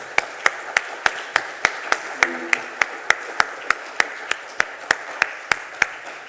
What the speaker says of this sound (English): So I'd like to have a round of applause for them.